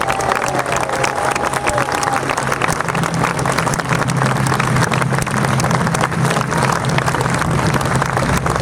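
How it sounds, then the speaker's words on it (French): A large audience applauds the police officers in attendance, steady loud clapping that fills the whole stretch without pause, with a low hum beneath the crowd. "Applaudissez les flics qui sont ici."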